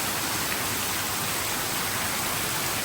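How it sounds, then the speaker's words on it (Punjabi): Heavy rain pours down over farm fields in a dense, continuous hiss, loud and unbroken, with no voices heard. "ਇੰਨਾ ਜ਼ਿਆਦਾ ਮੀਂਹ ਪੈ ਰਿਹਾ"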